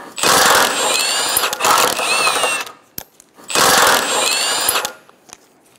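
Power tool, likely an impact wrench or drill, removing front bumper impact absorber bolts on a 2012-2016 Subaru Impreza; two loud, close whirring bursts of roughly two seconds each, separated by a brief pause.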